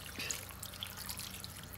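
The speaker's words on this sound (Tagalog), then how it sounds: "Mag-a-add na din ako ng tubig." Water is poured into a pot of pork humba: a short, steady splashing trickle at close range, with no talking.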